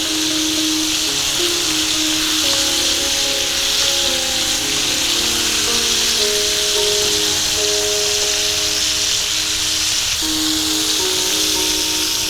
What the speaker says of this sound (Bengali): উল্টে পাল্টে পটলগুলো ভেজে নেব।